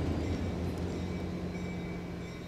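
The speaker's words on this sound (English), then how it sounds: "I get it, you're a train! You're coming to ruin my recording!" Train passing outside, a steady low rumble of rolling wagons with a faint tonal hum, continuous and fairly loud across the whole stretch, no talking.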